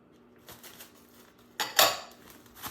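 Breadcrumbs and shredded parmesan being stirred in a bowl for a baked macaroni and cheese topping, a few soft scraping clinks of a utensil against the bowl, with a louder burst of scraping near the end.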